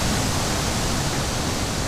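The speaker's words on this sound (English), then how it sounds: "Poseidon waved his hands and the waves crashed against their boat" Stage sound effect of waves crashing against a boat, a dense, loud wash of rushing water noise that stays steady and unbroken for about two seconds, with no voices.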